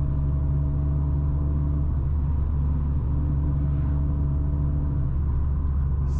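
Chevrolet Astra 16v cruising and accelerating on a Brazilian highway, heard from inside the cabin as a steady, loud low engine drone with tonal hum and road rumble, continuous with no talking.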